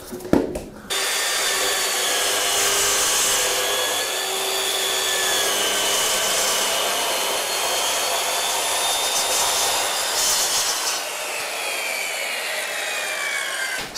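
A handheld circular saw cuts through solid wood with no dust extraction, a loud, steady whining rasp that starts abruptly and holds for over twelve seconds.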